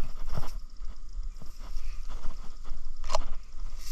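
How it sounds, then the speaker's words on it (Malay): A boat moves along a river on a cast-net fishing trip, with a low rumbling motor, water sloshing and scattered knocks and splashes heard up close. "Kita pergi jala naik bot."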